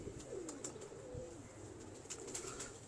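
Sialkot pigeons coo in soft, low, repeated calls close by, with a few light flutters and background hiss filling the short stretch.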